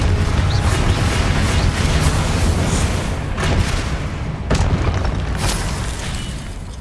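Spell blasts in the Hogwarts Legacy game, a few sharp booming bursts around the midpoint and later, close and loud over continuous dense rumbling combat noise, with no talk.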